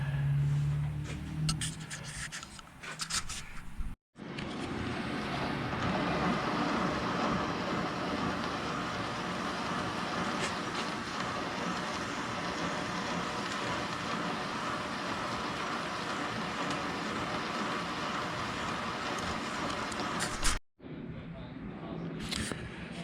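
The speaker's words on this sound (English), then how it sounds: "I got the plate set up in the mill to cut it off, 2 pieces," Milling machine cutting a steel plate into two 20-inch pieces for a hydraulic forging press build, a steady loud grinding cut running continuously for about sixteen seconds between brief pauses, with some talk at the start.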